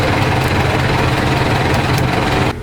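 A Husqvarna 250 motorcycle engine runs loud and close after a rocker arm rebuild, a steady rapid buzzing idle with a faint repetitive ticking in the valvetrain, cutting off abruptly just before the end, with no talking.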